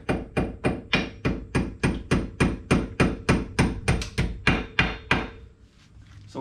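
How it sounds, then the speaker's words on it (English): Steady metallic hammer taps knocking a pin out of an ATV CV axle assembly, around twenty evenly spaced, close and crisp strikes that stop abruptly near the end. "Now we're just gonna tap the pin out."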